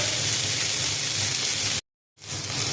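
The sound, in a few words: pumpkin flowers frying with shrimp, garlic, chilli, salt, turmeric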